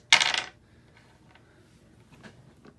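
Dice rolled during a tabletop session of The Crew board game: one short, bright clatter burst at the start, followed by faint scattered clicks and low room noise.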